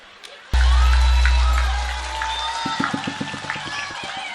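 An audience at a religious gathering breaks into loud applause that starts suddenly, then thins into scattered rhythmic clapping, with a voice talking over it.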